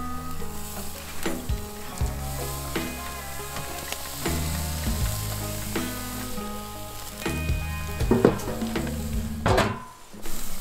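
Meat sizzling on a camping grill in a rainforest, a constant frying hiss broken by repeated metallic clanks and scrapes of utensils against the grate, close and alone without talk.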